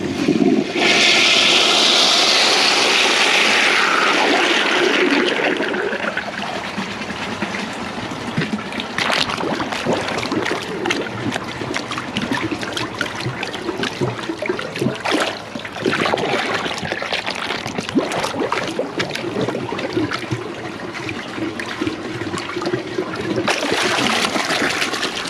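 A 1977 Briggs Abingdon high-mounted bucket tank toilet flushes with a loud rushing gush of water at the start, easing into a long steady refill trickle and hiss that runs throughout, with no talking.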